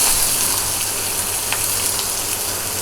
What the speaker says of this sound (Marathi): फक्त जरा ही तेलात आपण परतून घ्यायची आहे आता कांदा